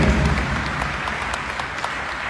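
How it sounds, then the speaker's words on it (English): Applause for athletes at the Team Marianas send-off ceremony for the 2025 Palau Pacific Mini Games, a steady diffuse clatter of clapping with no voices standing out. "Let's give a round of applause to Namasa and all of the prior athletes then today."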